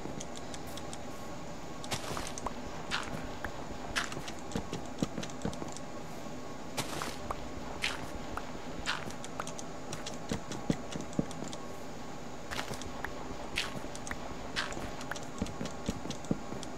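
Horse hooves clip-clop at an irregular pace in the Minecraft video game. The clops are faint and scattered against steady background game noise.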